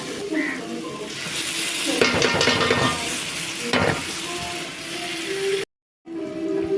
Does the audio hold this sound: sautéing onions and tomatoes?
yes